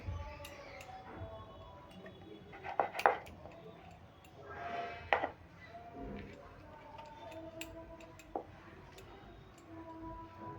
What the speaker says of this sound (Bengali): এই চাকুটা দিয়ে পিস পিস করে কেটে নেব